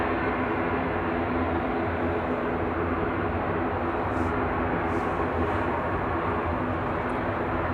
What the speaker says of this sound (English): GPM departing, back to Guernsey now for Aurigny, ATR 72600.